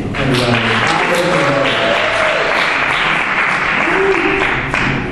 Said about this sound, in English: let's hear a round of applause for Mr. Yaakov Kilstein